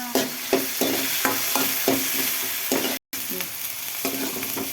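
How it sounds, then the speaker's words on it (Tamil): Onion, tomato, garlic and green chilli sauté in a hot pan, a steady sizzle broken by repeated rhythmic scrapes of a spoon stirring, close and fairly loud, with a brief dropout near the end. "வெங்காயம், தக்காளி, பூண்டு, பச்சை மிளகாய் போட்டு வதக்கணும்."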